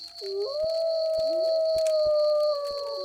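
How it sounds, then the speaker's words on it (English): Coyotes howl at night in the woods, several long rising and sliding wails overlapping at moderate distance, with faint rhythmic ticks beneath and no speech. "What followed were the familiar yips of coyotes"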